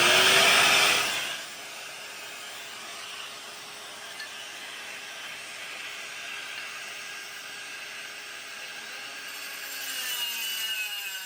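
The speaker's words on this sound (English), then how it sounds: "we can get started cutting this tile with this here" A power saw fitted with a vacuum attachment cuts through tile, giving a steady, sustained whine and grinding hiss after a louder burst at the start, running continuously and close by with a slight swell near the end.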